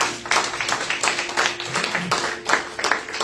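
A small church congregation claps at a Sunday service, uneven separate claps in a loose rhythm, moderately close, with a faint voice in the background.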